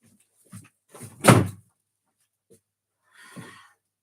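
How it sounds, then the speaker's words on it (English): Bedroom door closing in a quiet room: a few soft bumps and one solid thunk as it shuts, followed by a faint rustle, close and with no talking. "I'm just going to close my bedroom door."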